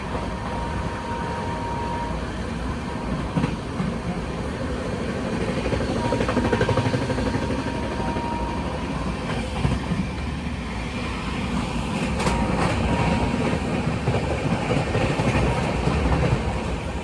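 The Mumbai Mail passes on a parallel track as the Gour Express nears Burdwan Junction, a continuous loud rolling rumble with rail clatter and occasional clicks, heard from on board the LHB-coached train.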